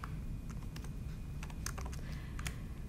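Typing cell addresses into an Excel spreadsheet on a computer keyboard, a quick run of light, close keystrokes over a steady low background hum, with nobody speaking.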